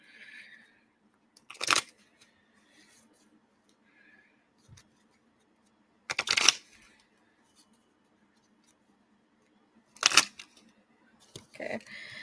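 Oracle cards being shuffled by hand, a few separate bursts of crisp riffling and flapping spaced seconds apart, close and moderately loud over a quiet room.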